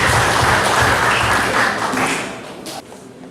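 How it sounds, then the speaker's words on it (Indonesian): Audience applause at a church fellowship gathering, a loud, dense burst of clapping that holds steady and then thins out toward the close. "Tepuk tangan dulu"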